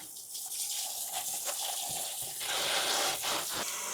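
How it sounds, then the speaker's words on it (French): Tap water gushes steadily into a sink while a fresh fish, cut in two, is rinsed under it. The stream stays close and continuous, brightening and splashing harder toward the end, with no voices. "J'utilise l'eau du robinet pour rincer le poisson."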